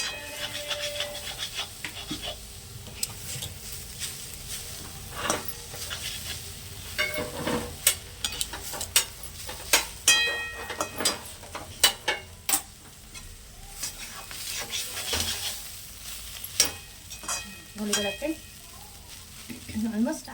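Beetroot palya with fresh coriander leaves is stirred in a pan over a soft background sizzle, with repeated irregular scraping and clacking strokes of the spoon against the metal, close and fairly quiet.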